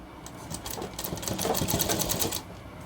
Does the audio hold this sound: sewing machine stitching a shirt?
yes